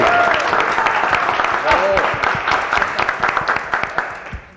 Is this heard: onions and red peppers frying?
no